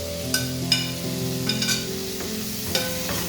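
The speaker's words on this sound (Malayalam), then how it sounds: "ഇത് നന്നായി ഒന്ന് മിക്സ് ചെയ്യുക." Duck roast masala with turmeric sizzles steadily in a pan on the stove, while a spoon scrapes and stirs it in a few distinct, close strokes.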